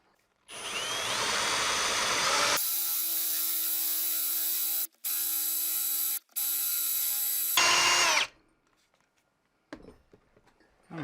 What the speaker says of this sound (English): I'm going to now put the 3/8 hole on the top and just drill.